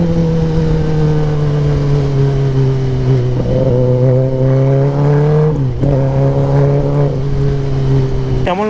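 A Kawasaki ZX10R superbike riding at steady speed, its engine a loud, sustained drone with clear harmonics that dip and rise through gear changes, close and continuous throughout with wind noise.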